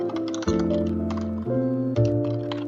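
Keys on a computer keyboard clatter in short bursts while an email is typed into Gmail, close and fairly loud, with clustered taps separated by brief pauses and no talk.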